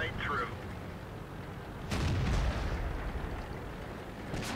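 A tank gun fires in World of Tanks, an SU-100 tank destroyer in battle: one heavy, booming shot lands midway and rolls off over a low, continuous background rumble.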